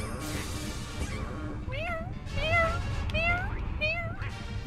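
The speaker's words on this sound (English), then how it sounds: "I wasn't intending to respond to the meow" A cat meows several times in a row with rising and falling calls, heard over a busy game-stream background with some voice activity.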